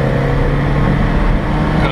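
An Alfa Romeo 4C on the race track at Circuit de la Ferté-Gaucher accelerates flat out, a loud, steady engine drone heard from close by for about two seconds.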